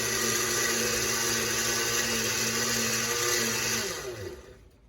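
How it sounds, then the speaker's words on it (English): A blender purees cooked acorn squash soup in a loud, steady whir that holds for about four seconds, then winds down and trails off as the motor stops. "And let's put this on to blend."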